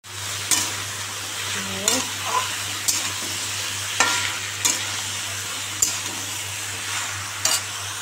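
Bottle gourd is stir-fried with spices in a hot pan, and a steady sizzle runs throughout while a utensil scrapes and taps the pan every second or so. The sound is close, with a low hum underneath and no talking.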